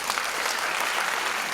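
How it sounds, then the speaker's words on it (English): Applause fills a hall at a student awards ceremony during a West African Examination Council conference in Freetown, a dense steady clapping from a crowd with no talk. "A big round of applause for"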